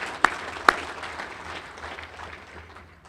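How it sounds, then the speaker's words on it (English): Applause at an American Muslim Union event for the Bergen County Sheriff's Honor Guard; two sharp close claps stand out, followed by a softer, diffuse spread of clapping that tapers off. "A round of applause for the Bergen County Sheriff's Honor Guard"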